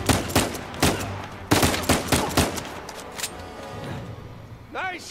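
Gunfire in an Uncharted 4 firefight during the auction escape, with a rapid run of sharp shots and bursts up front, then fading into ambient game noise as characters speak briefly.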